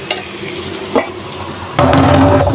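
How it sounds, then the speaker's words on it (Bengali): Hilsa fish being stirred with spices in a hot pan, a low steady sizzle with a couple of scraping strokes, then louder frying as more goes in near the end. "মশলার সাথে ভালোভাবে কষায় নিয়ে মাছটা তারপর আলু দিয়ে দিব"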